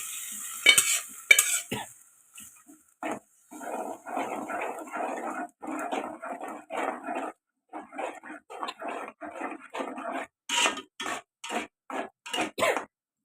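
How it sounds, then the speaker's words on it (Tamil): Cooked dal from a pressure cooker poured into a pot and stirred, with a run of rhythmic scraping, sloshing stirring strokes and a few sharp clinks, close and fairly quiet. "குக்கரில் வேக வச்ச பருப்பை ஊற்றிக்கணும்"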